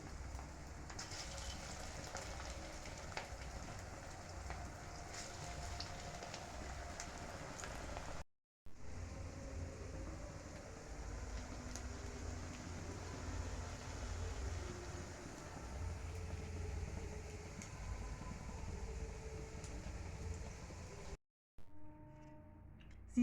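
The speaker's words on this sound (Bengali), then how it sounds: "এবার একটা একটা করে আমি তেলে ভেজে নেব।" Cauliflower and potato chops sizzling as they fry in hot oil, a steady close crackling hiss that runs with two short breaks, with no talking.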